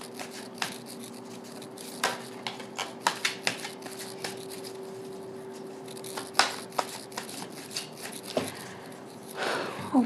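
Tarot cards shuffle in soft riffles, slaps and taps close by over a faint steady hum, with scattered louder flicks and a rustling burst at the end.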